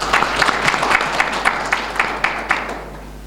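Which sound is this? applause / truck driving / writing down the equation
applause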